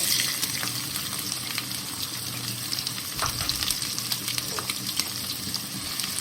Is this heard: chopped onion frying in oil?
yes